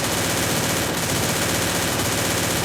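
Rapid gunfire in a video game fills the whole moment as a dense, continuous crackle of shots at steady loudness, with no voices over it.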